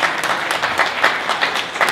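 Audience applause at the Casale Diabolika 2015 event, a short burst of dense, steady clapping from a crowd, moderately loud and even throughout.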